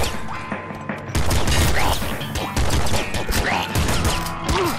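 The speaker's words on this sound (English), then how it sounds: "Triple machine gun!" Rapid, dense automatic fire from a triple machine gun in the top-down shooter Nuclear Throne, loud and continuous with bursts and brief gaps, mixed with game effects and impacts.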